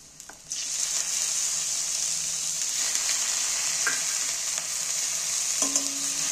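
Fish oil sizzles steadily in a pan with browned onion and garlic, a constant close frying hiss broken by a few soft stirring clicks, with no voices.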